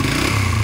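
Suzuki Raider 150 Fi motorcycle engine idling just after starting, with a loud tensioner clatter, a short close burst of rough mechanical rattle over the engine hum.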